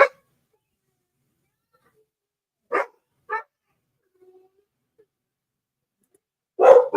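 Dogs bark in a few short, separate bursts: two quick yaps close together, a long pause, then another bark at the end, all against near silence.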